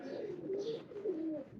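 A Sialkot 'chooha' breed pigeon coos in a low, steady, rolling murmur, close by and moderately quiet, with no talking.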